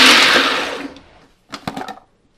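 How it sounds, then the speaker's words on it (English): A food processor whirs loudly as it chops a carrot, then winds down and falls quiet before a few short clattering bursts of the blade and bowl. "I'm going to put it in a food processor"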